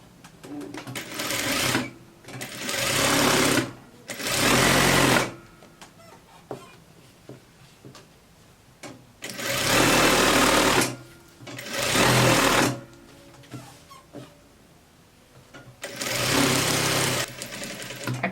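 Home sewing machine stitching a coat, starting from the bottom edge of pinned fabric and slowing on a curve: loud whirring bursts of a few seconds each, separated by pauses with faint handling noise.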